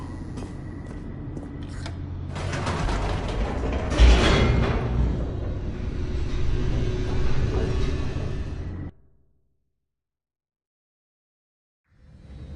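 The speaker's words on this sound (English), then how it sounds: "The elevator raced downward" Elevator descending in The Stanley Parable, a steady mechanical rumble with a sharp clunk partway through, lasting about nine seconds before cutting to silence, then the sound briefly returns at the end.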